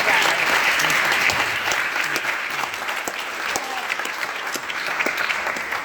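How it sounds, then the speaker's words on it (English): A university audience at Bethune-Cookman gives Dr. Akbar another round of applause: continuous, full clapping from a large crowd, holding steady throughout. "Let's give Dr. Akbar another round of applause"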